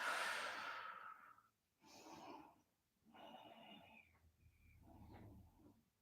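Slow, deep breaths during a yoga session, several long exhales and inhales separated by short pauses, close and fairly soft.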